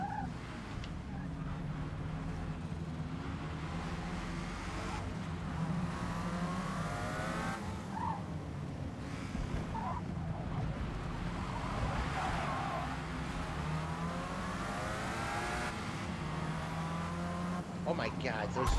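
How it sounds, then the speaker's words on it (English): Race cars in Forza Motorsport race close by with buzzy, rotary-like engines, a continuous high whine that rises and falls with revving over a low rumble, with brief squeals. "cars next to me sound almost like they have a rotary engine. Sounds so buzzy."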